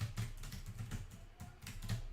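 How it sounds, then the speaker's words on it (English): Rapid typing on a computer keyboard, a steady patter of close, crisp keystrokes that runs for about two seconds with one brief pause partway through. "Here, I'll type it in the chat."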